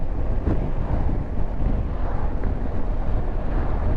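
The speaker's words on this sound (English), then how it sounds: "the wind seems to be hitting the helmet in the same sort of position" Wind hits a motorcycle helmet on a BMW GS fitted with a windscreen and a Puig extender at about 40, producing a constant loud low rumbling buffet close to the ear with no pauses or talking.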